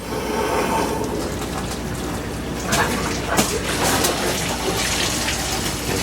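Water gushing steadily through household plumbing lines just after a water filter replacement, a continuous rushing hiss with a few brief sputters of air, close and fairly loud.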